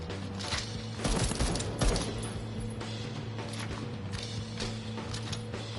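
Gunfire in the first-person shooter Deathloop, a run of broadband shots and impacts clustered in the opening seconds over a steady game ambience with a low hum, then scattered fainter shots trailing off.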